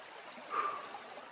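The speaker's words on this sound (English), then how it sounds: "Just fjording a river and cleaning off my new shoes because they're" River water flowing and trickling around shoes being rinsed of mud during a river ford on an Appalachian Trail thru-hike, a soft steady stream with a brief louder swirl midway.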